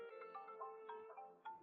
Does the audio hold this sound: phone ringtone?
yes